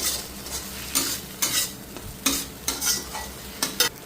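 Masala gravy for khoira fish curry fries in a pan while a spoon scrapes and stirs it in quick, irregular strokes over a soft, continuous sizzle, close up with no voices.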